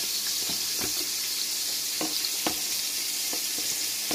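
Steady hissing sizzle of chicken wings frying in hot oil, with occasional pops and crackles, close and continuous with no talking.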